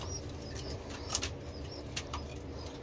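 Racing pigeons in a loft give soft, faint coos with occasional brief wing flutters against a steady low background hum.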